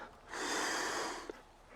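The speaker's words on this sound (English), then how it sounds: "let's take a deep breath" A group draws in one long, slow breath together during a gathering, a soft airy rush that swells for about a second and then fades, with a small click near the end.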